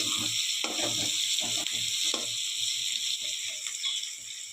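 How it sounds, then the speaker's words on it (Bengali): Onion browning in hot oil in a pan for chicken curry: a continuous close sizzle with intermittent scraping and clicking of a spatula stirring, easing slightly toward the end. "পেঁয়াজটা একটু লাল লাল ভাজা ভাজা হবে"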